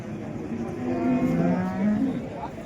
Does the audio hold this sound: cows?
yes